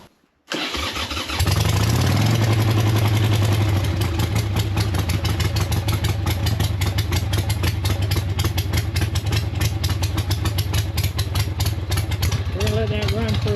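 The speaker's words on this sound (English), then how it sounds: "Let's go ahead and crank up the Harley." A Harley motorcycle engine cranks, catches and settles into a loud, steady rumbling idle that runs close and continuous for over ten seconds, with a voice briefly heard near the end.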